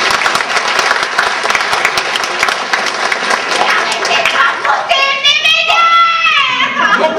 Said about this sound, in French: Bravo, cela s'applaudit.